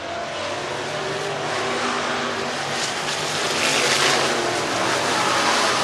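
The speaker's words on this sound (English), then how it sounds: "Hot lap qualifying continues for the Great Racing USA 602 late models." Dirt late model race cars roar around a short track during hot lap qualifying, a loud continuous engine drone that swells as cars pass close.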